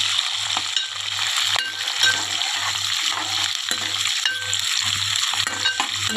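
Hot oil sizzles steadily as ingredients for gongura curry fry in a pan, a continuous bright crackle with a low rhythmic hum pulsing underneath.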